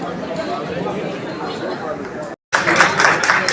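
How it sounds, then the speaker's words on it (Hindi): An audience in a hall claps to welcome a national president to the stage at a flag honour ceremony, steady applause with chatter, then a brief cut and louder, brighter clapping. "जोरदार तालियों से स्वागत अभिनंदन।"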